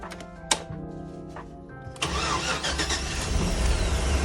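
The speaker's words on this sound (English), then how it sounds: "Let's see if the bus will start." A bus engine cranks briefly and then catches, settling into a loud, steady rumbling idle after the wiring has been removed; a few clicks and a short whir come before it starts.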